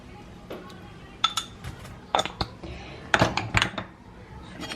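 Utensil clinks against a metal pot while food seasoned with pomegranate molasses and salt is stirred, a few sharp taps in scattered bursts, close and fairly quiet.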